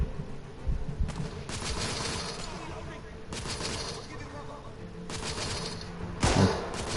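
Sniper rifle fire in the video game The Order: 1886, several heavy booming shots spaced a couple of seconds apart over a constant battle din, with voices talking throughout.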